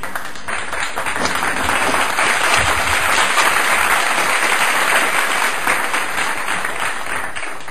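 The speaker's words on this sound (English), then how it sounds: "And the crowd goes wild!" Crowd applause and cheering, a loud, sustained roar of clapping holding steady for several seconds with no one speaking over it.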